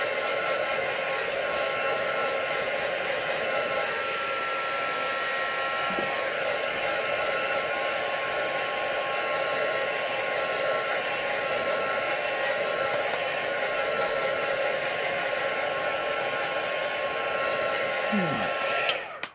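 A hair dryer blows steadily and loudly over stenciled paper, a constant close whooshing drone that holds for nearly twenty seconds before cutting off abruptly at the end.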